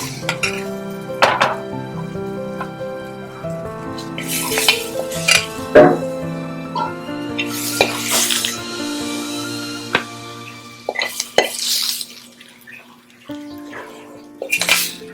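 A masala meat mix is stirred in a pan on a burner, with repeated metal scrapes and clanks of a spoon against the pan in bursts over a quiet background, no talking.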